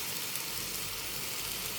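Chopped tomatoes stirred into frying onion and garlic with spices, giving a dense, even hiss of sizzling close by with no talking.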